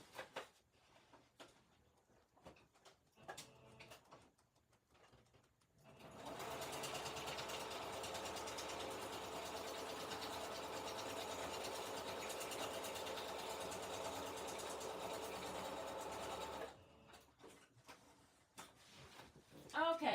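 A sewing machine runs steadily for about ten seconds while stitching a lace sample tag card, a continuous close mechanical whir between quieter stretches with no speech.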